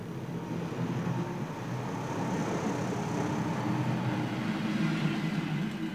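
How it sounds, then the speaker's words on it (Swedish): A train departing a station rumbles steadily, a continuous low roar of wheels and carriages with a faint hiss, close by and unbroken. "Och så kan tåget åka iväg."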